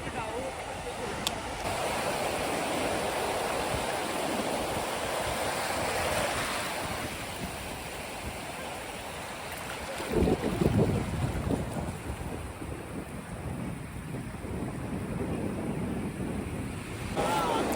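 Sea waves washing onto a beach at Ratnagiri on the Konkan coast, a continuous broad roar of surf mixed with wind buffeting the microphone, with a louder surge of breaking water midway.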